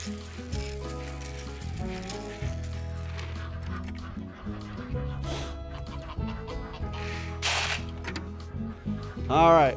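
A backyard flock of chickens, kept alongside geese and ducks, clucks and murmurs close by during a bad winter storm, with a louder squawk at the end and people talking over it.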